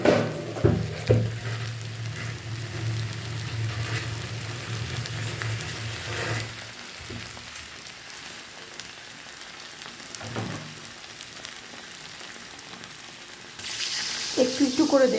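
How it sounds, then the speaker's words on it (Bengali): Water is added little by little to fried spices for a fenugreek potato curry, setting off a loud, steady sizzle that fades and flares again with brief stirring scrapes and a hiss near the end. "এবার আমি জল দিয়ে দিচ্ছি"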